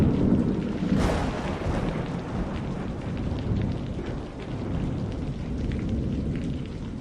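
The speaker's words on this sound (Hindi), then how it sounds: "अरे रतन, इस तूफानी रात में नदी में जाना मौत को दावत देना है" A stormy night over a river brings a continuous roar of heavy wind and rain, with a sharp thunder crack early on and a dense rumbling wash that carries on steadily throughout.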